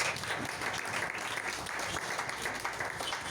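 A church congregation applauds in a dense, steady wash of clapping that holds evenly throughout, moderately distant and fairly quiet.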